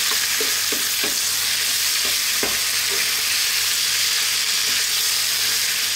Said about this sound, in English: we're going to cook this now for about 6 to 7 minutes, stirring often